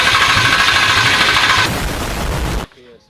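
An engine is cranked hard and catches, roaring loud and rough for about two and a half seconds before cutting off abruptly into near quiet.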